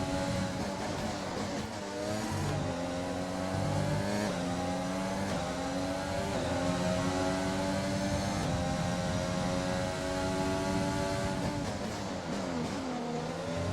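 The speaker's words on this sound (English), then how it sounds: "Just to give you a little sound of the engine there." The V6 twin-turbo engine of a 2020 Formula 1 car in the racing video game F1 2020 screams continuously, its pitch climbing through the gears with repeated sharp drops at each upshift.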